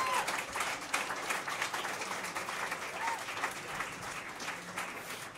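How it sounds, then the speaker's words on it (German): Concert audience applauding band members being introduced at a final pop concert, a continuous patter of clapping with a few scattered whistles and cheers, moderately loud and steady throughout. "Ein großer Applaus."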